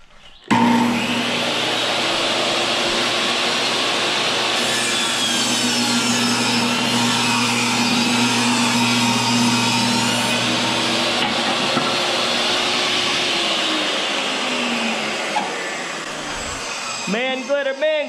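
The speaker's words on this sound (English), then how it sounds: "we'll get the table saw out and we'll rip one down" A table saw rips a wooden board lengthwise to a one-inch width in a barn under construction, a loud, steady whining cut that runs continuously for about fifteen seconds before spinning down, close by.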